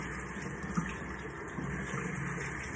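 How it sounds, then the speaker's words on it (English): Water runs steadily from a tap into a sink, a continuous close hissing splash with no talk. "let me turn in the water."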